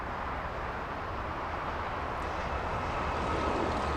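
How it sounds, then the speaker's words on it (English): A Lufthansa Airbus A350 airliner on final approach at Los Angeles airport, heard as a steady, broad jet roar that holds evenly and swells slightly toward the end, with no voices over it. "Lufthansa A350 on final approach."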